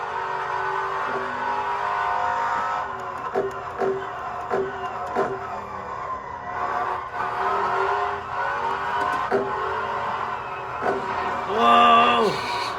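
A twin-turbo Ferrari F12 engine drones steadily through a hot lap, heard from inside the car, with repeated shift-like pulses and a rising whine near the end. People talk over it.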